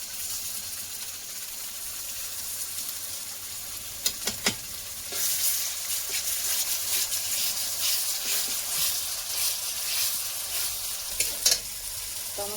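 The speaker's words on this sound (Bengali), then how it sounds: "পেঁয়াজটা একটু ভাজা হয়ে গেছে। এবার আমি দেবো আদা বাটাটা" Onion and ginger paste frying in a pan for Bengali fish curry, a steady soft sizzle with occasional spoon scrapes and stirring clicks, close and fairly quiet, no voices.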